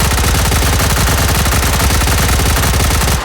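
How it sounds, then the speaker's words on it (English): M231 firing port weapon in H3VR unloading a long, loud, unbroken burst of rapid automatic fire, shots packed tightly together until it stops abruptly at the end. "who needs a sight when you've got 1200 RPM"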